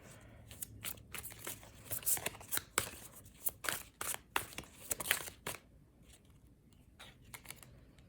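Tarot cards are shuffled by hand close up, making a quiet series of irregular riffling, flapping and slapping bursts that bunch together in the middle and thin out toward the end.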